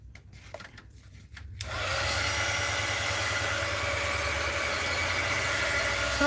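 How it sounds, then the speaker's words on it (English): A heat gun switches on and blows with a steady, loud, continuous whoosh and whine, drying a mixed-media art journal page freshly painted with silver. "So heat gun time again."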